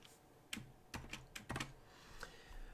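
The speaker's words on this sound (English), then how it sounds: "Don't need you guys seeing what I'm typing in here or possibly seeing how long my password is" Password being typed on a computer keyboard during a wireless network equipment setup, heard as a few quiet, scattered clusters of key clicks at close range with no talking.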